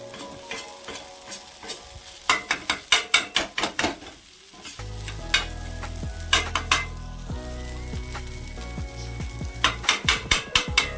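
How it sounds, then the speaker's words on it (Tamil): Salna for kothu parotta is stirred in a pan, a sizzling fry with a series of rhythmic metal spatula scrapes and clanks against the pan. The sound is close and loud, with a steady low hum joining partway through and no talking. "இந்த சால்னா கொஞ்சம் உங்களுக்கு ட்ரை ஆகிற வரைக்கும் கொஞ்சம் கிண்டுங்க."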